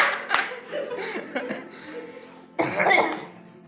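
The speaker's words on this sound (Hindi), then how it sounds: "मैं बीच बीच में खांस रहा हूँ, थोड़ा ज्यादा हो गया" A man coughs a few times at a live poetry recital on stage, harsh bursts at the start and again near the end, with some chuckling in between.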